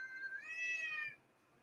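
A cat meows once in the background, a single faint drawn-out cry lasting about a second in an otherwise quiet home kitchen.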